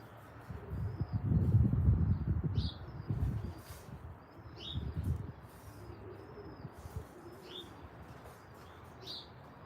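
Pigeons coo in a loft with soft, low, rolling calls that rise and fade in a few bursts. Brief higher chirps sound over a quiet background.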